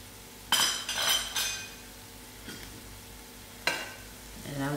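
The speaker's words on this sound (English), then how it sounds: "I put in my mustard seed to fry." Mustard seeds fry in a pan of oil for a banana kebab masala, a soft steady sizzle with a few stirring scrapes and light clinks of a utensil against the pan, close up and without talk.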